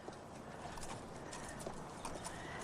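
A horse walks forward carrying a first-time rider during a riding lesson, its hooves giving a soft, even clip-clop at a relaxed walking pace, fairly quiet and with no talk.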